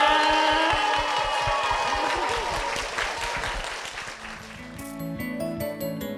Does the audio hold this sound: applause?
yes